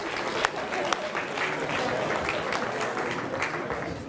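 A graduation ceremony audience claps steadily throughout, a dense, even patter of many hands heard from within the hall, fairly subdued in level with a few sharper individual claps standing out.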